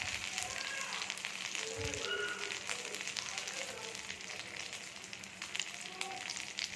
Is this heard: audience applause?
no